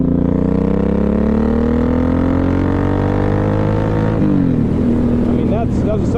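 A 2007 Suzuki M109R cruiser motorcycle pulls hard in second gear, its loud engine note climbing steadily for about four seconds before easing off, with a rougher mix of engine sound continuing after.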